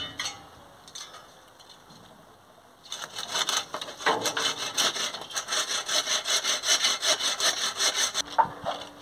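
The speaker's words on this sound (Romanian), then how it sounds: "rădăcine pe care încerc cu fierăstrău să o împart în două" A hand saw cuts through an old rose root being divided in two, first a few faint scrapes, then a quick run of rhythmic rasping strokes that grows steadily louder, ending with a light knock.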